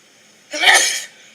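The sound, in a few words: sneeze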